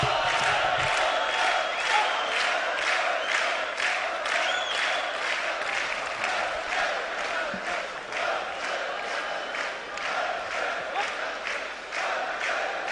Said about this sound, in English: There's the boos from the crowd. There's a few English cheers out there